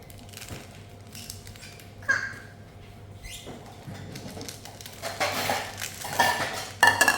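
Indomie mee goreng noodles mixed in a bowl, with scattered clinks and scrapes of utensils against the dish, close by, growing busier and louder toward the end.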